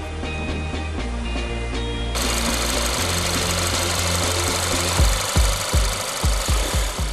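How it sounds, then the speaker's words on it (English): New VW Beetle with a 118-kilowatt engine putters steadily, a loud continuous engine rumble that swells and then gives way to uneven knocking thumps near the end. "In terms of sound, the 118-kilowatt engine still putters like the old models."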